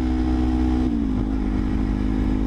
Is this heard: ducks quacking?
no